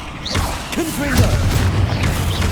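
Confringo blasting spells fired in combat in Hogwarts Legacy, heard as booming magical bursts with swooping whistles over a dense rumbling battle bed, fairly loud and continuous.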